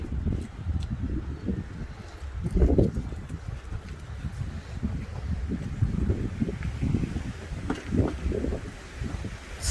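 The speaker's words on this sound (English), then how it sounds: "It's so windy out here, so sorry you guys hearing a bunch of wind." Wind blows outdoors, buffeting the microphone in low rumbling gusts that swell and fade over several seconds, with faint rustling in the background.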